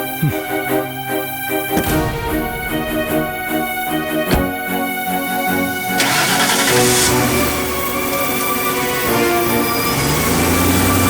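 A car engine starts in a scene from a Tamil television drama, cranking into a loud, sustained roar that swells midway and holds steady, layered over a dramatic musical score.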